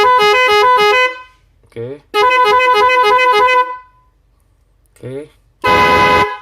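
A three-trumpet telolet bus horn blares in long melodic bursts separated by short pauses and brief chirps, with a harsher blast at the end. A voice speaks briefly in the gaps.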